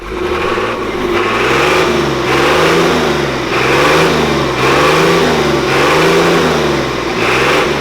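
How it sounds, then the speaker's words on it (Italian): An ACM truck's diesel engine revs repeatedly in steady, loud surges that rise and fall about once a second, with a deep throbbing rumble throughout and no talking. "facciamo sentire il motore dell'ACM"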